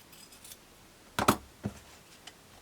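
Scissors cut through quilt pieces of fabric: two or three crisp, close snips in quick succession in an otherwise quiet room, with no talking.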